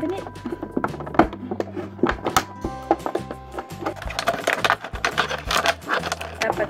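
Bulky plastic packaging around a perfume is pulled open with crinkling, tapping and crackling handling noises, close and irregular, while a person talks over it.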